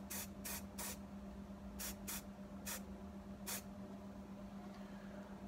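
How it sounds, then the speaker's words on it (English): Short bursts of spray paint coat the outer sill of a Classic Mini during restoration, seven quick hissing blasts in an irregular rhythm over a steady low workshop hum. "give that a quick coat of paint"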